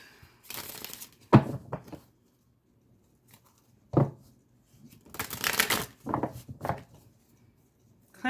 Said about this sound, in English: I think I just shuffled these backwards.